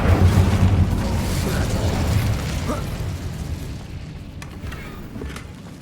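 The Incendio fire spell is cast in Hogwarts Legacy, giving a loud whooshing burst that starts at once and slowly fades into a low rumble and a few fainter magical sounds.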